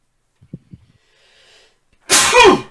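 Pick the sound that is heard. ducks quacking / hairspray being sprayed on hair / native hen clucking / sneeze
sneeze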